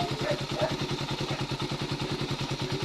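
A Suzuki Raider 150 motorcycle engine runs poorly, with a fast, rough and uneven putter. The sound is close and steady and lasts throughout with no gaps.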